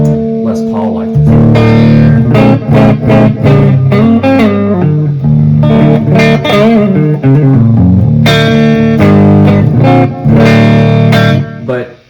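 An electric guitar played on a Les Paul's neck pickup through a 1979 metal-panel Marshall Plexi amp, driven into distortion, rings out loud and close with strummed chords and sustained notes.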